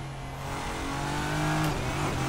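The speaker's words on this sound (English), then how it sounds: "Oh, I love the Nissan grunt on this thing." A Nissan Le Mans race car engine in Assetto Corsa revs hard down a straight, a loud, steady, rising mechanical drone with a gritty grunt, close and continuous without voices.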